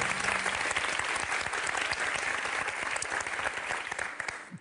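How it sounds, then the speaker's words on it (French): A television quiz show studio audience claps after a correct answer, dense and steady applause that is fairly distant and dies away at the end. "comme évidemment les gens applaudissent les bonnes réponses"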